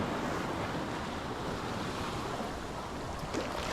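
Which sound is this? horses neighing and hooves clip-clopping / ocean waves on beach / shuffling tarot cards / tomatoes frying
ocean waves on beach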